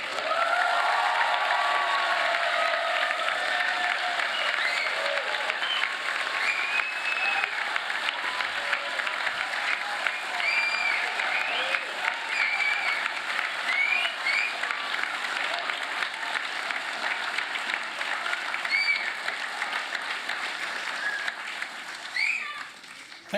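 At a UTS Business School graduation ceremony, a large audience claps and cheers for the graduates, a loud, sustained wash of applause with scattered whoops that carries on for over twenty seconds before easing at the end.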